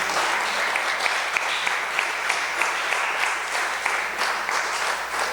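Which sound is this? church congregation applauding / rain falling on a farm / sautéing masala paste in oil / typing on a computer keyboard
church congregation applauding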